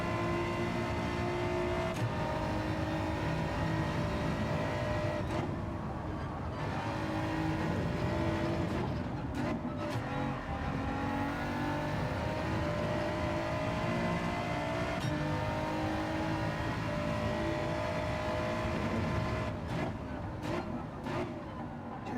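Engine roar from a car lapping a track in Gran Turismo 7 online lobby racing, a continuous revving drone that rises and falls through gear changes, with a voice talking faintly underneath.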